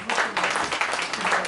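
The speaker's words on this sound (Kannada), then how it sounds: "ಜೋರಾದ ಚಪ್ಪಾಳೆ ಬರಲಿ" An audience at an auditorium anniversary event applauds a guest being called onto the stage, a dense, steady wash of clapping from many hands that carries on throughout.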